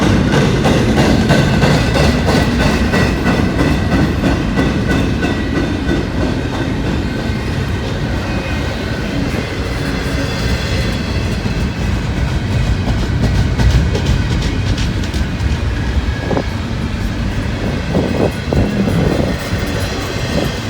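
A long freight train rolls past close by, with a loud continuous rumble, rhythmic clickety-clack of wheels over rail joints and occasional metallic squeals throughout.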